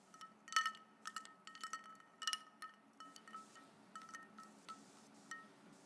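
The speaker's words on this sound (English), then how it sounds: "Give it a little stir." A spoon clinks repeatedly against the inside of a glass while stirring a drink, a close, bright series of irregular taps and chimes, busier at first and then slowing, heard alone in a quiet room.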